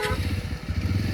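A motorcycle engine runs close by in a village setting, a loud low throbbing idle with rhythmic pulses, pulling away as the bike sets off.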